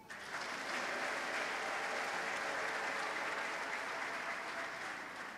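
A church congregation breaks into applause. The clapping swells quickly and then holds as a dense, even wash for about five seconds with no speech over it.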